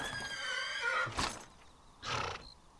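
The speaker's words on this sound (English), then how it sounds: "Good horsey." Horse neighing in the Dragon Quest 8 video game: a high, wavering whinny followed by two short snorting bursts, fairly faint, with no voices.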